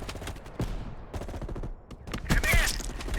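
Rifle gunfire in Black Ops Cold War, sharp separate shots in irregular bursts, loud and close, with a denser crack of fire toward the end.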